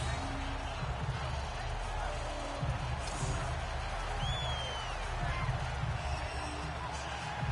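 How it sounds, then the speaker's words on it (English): Steady roar of a large stadium crowd at an NFL game, the Giants visiting Carolina, a dense wash of noise that runs the whole time beneath voices talking. "You have a good crowd in here right now."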